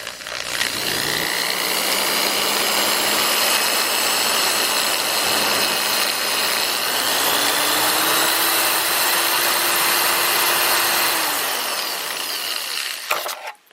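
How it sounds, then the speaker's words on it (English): A dull drill bit grinds against plastic while trying to bore a small hole in an HO-scale model bridge part, droning loudly and steadily with the motor pitch rising partway through before winding down and stopping. "Drill this little hole."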